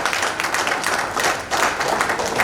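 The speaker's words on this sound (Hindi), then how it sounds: "दर्शकों से तालियों का आग्रह करूंगा।" Audience applause at a devotional gathering as a shawl is presented on stage: dense, steady clapping from many hands that fills the whole moment, with no voices over it.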